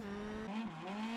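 A WRC rally car from the WRC Generations racing game, with nearly 400 horsepower, lets out a brief, loud engine howl that dips and then climbs again as it powers out of a corner.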